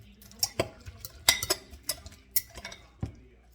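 Cucumber salad being tossed with creamy dressing in a bowl, with scattered clinks and scrapes of a utensil against the dish in an uneven rhythm, close and fairly quiet.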